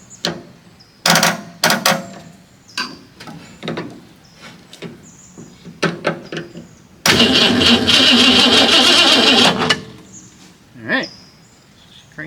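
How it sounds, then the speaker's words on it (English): A car's starter motor is heard first as scattered clicks and short knocks, then a loud, sustained cranking whir of the engine turning over for about three seconds before it stops and does not start. "Alright, cranks over."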